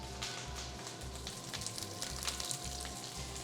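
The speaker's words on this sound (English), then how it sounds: "I'm starting to hear a little bit of sizzle and pop" Cauliflower sizzles steadily in hot oil with crackling pops, a constant hiss up close and a low hum underneath.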